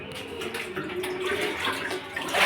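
Water runs steadily from a tap into a bathing bucket or tub in a village home, a close, continuous splashing rush with no talking.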